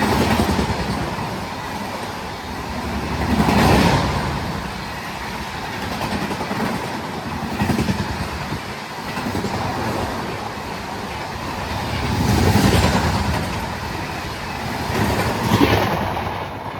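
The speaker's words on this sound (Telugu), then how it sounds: "12791 Secunderabad Danapur super fast express." The 12791 Secunderabad–Danapur Superfast Express speeds past at Kottapally station, a close, loud roar of rolling coaches with rhythmic clickety-clack swelling in repeated surges as wheel sets pass.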